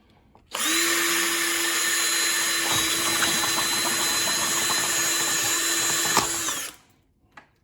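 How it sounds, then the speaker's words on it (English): A power drill with a hole-drilling bit whines loudly for about six seconds, a steady high-pitched grinding as it bores through a hard plastic cup, then stops. "I'm going to use this hole drilling bit and I'm going to go in between the north, south, east, west"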